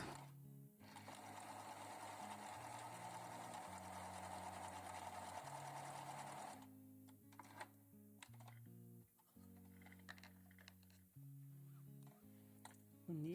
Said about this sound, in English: take a scrap of lining material or any thin fabric and put it in the machine diagonally on the bias so you can sew along the stretch of the fabric